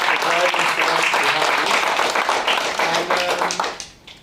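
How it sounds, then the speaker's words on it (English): A room of delegates at a business and impact economy event gives a round of applause, loud sustained clapping with some voices mixed in, fading out near the end. "I will ask a round of applause for Marisa"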